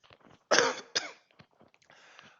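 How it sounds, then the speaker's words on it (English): A person recovering from the flu gives a couple of close coughs with throat clearing, the first burst strongest, followed by quieter breathy throat sounds. "I'm actually over it now, but I'm still coughing a little bit."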